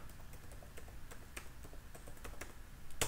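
Quick, light keystrokes on a computer keyboard entering a controller name in a Laravel 8 command, a short run of soft clicks ending in a firmer key press, faint and close.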